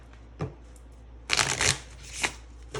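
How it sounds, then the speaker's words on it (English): A small, trimmed oracle card deck is shuffled close up: a brief flick, then a longer crisp riffle, then another short burst of card noise. "The shuffle is just so good on this. Like, it sounds wonderful."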